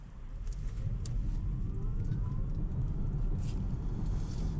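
A 2024 Hyundai Ioniq 6 Ultimate electric car accelerates with a steady, broad road and wind rumble heard from inside the cabin, a continuous wash with no engine note and no talk.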